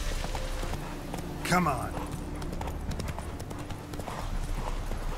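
A horse gallops in The Witcher 3 with steady clip-clop hoofbeats under game ambience and music, while someone speaks briefly.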